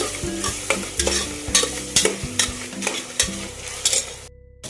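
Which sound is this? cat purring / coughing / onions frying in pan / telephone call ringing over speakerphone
onions frying in pan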